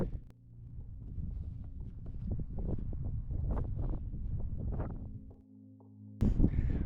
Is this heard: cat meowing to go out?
no